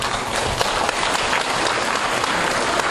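Audience applause during a talk on Chinese character education, a loud continuous roar of clapping from a large crowd that holds steady without pause.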